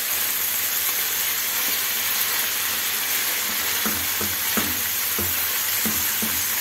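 Alexandrian-style liver and garlic sizzling in a hot pan as they are stirred together, a steady bright frying hiss with occasional scraping knocks from the spoon toward the end, no voices.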